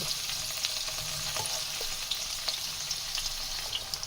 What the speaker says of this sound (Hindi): हमें ये चारों साइड से मीडियम फ्राई करना है